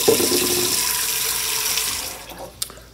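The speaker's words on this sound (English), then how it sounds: "So let me get some water." Tap water pours steadily into a cooking pot destined for a double boiler, a continuous close splashing rush that fades slightly near the end before a brief clink.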